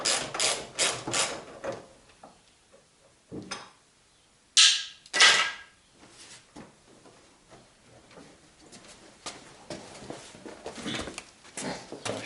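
A ratchet wrench turns a socket on an extension while working on a Ford Sierra Cosworth head gasket job, giving short bursts of clicking and scraping mechanism noise between quieter stretches of shop handling sounds.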